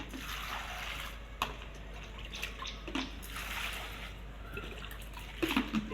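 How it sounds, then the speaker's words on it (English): A pineapple is rinsed under running water, a soft steady trickle and splash with occasional drips and light handling bumps, fairly quiet and with no voices. "I'm going to wash my pineapple first so that we can start cooking."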